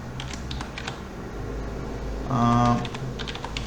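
Typing a heading on a computer keyboard, a rapid run of light key clicks close up over a steady fan hum, with a brief tonal beep partway through.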